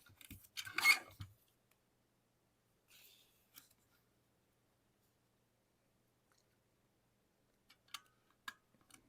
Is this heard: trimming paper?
yes